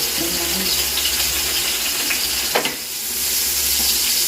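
Onions frying in a pan for biryani give a steady, close hiss of sizzling oil, with a faint scrape or clink partway through.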